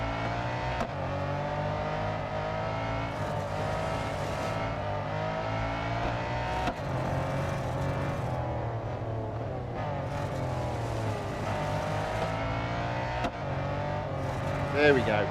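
A race car engine in the mobile game Real Racing 3 drones steadily at high revs for about fifteen seconds, with occasional gear-shift dips and small surges and no pauses, heard close and loud.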